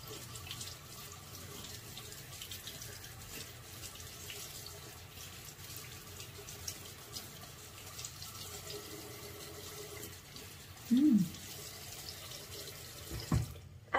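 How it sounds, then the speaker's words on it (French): A bathroom tap runs with a steady, quiet rush while a face is rinsed after skincare, joined by a few brief splashes and small knocks near the end. "Je vais rincer en direct."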